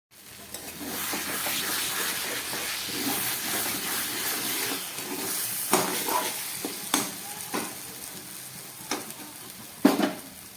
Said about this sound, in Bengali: এটা ফুটে উঠুক, তারপরে একদম গ্যাস কম করে একটু ঢাকা দিয়ে দেবো।